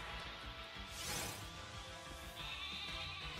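Wooloo, the sheep Pokémon in Pokémon Sword, gives a bleating cry over steady game music. The cry is one short, bright bleat near the middle, with a softer tone afterward.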